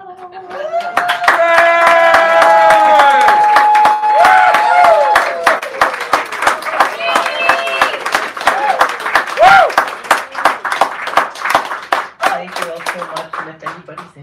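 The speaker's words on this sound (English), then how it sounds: "Give her another round of applause, please" An audience claps for a singer at a small café performance, sharp individual handclaps rising into sustained applause under someone talking, with the clapping thinning out toward the end.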